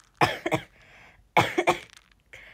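Two bursts of coughing, each a quick double cough, close and fairly loud, separated by a short pause with a faint hiss in between.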